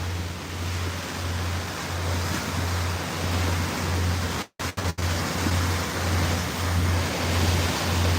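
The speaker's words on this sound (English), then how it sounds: "And then I'm driving the boat right now" Steady engine drone of a motorboat on the Mississippi River under broad water and wind rush, with a rhythmic low throb and a brief dropout midway.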